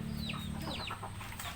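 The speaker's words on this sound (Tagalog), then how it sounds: "Ito yung mga manok namin" Several domestic chickens being fed at a hut cluck and chirp in quick, overlapping calls over a constant low hum, close by and moderately loud.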